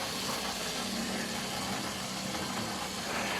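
A small model diesel railcar runs around a model railway layout, giving a faint, steady whirring motor hum with a light rolling rattle on the track.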